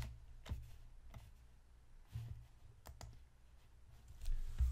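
Scattered keystrokes on a computer keyboard, a few separate clicks and short bursts at an uneven, hesitant pace, close and fairly quiet over a low background hum.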